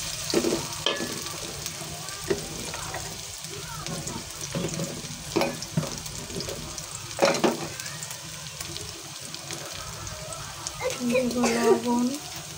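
Prawns and chopped garlic fry in a pan, a close crackling sizzle with irregular stirring scrapes and a few louder bursts, and a voice is briefly heard near the end.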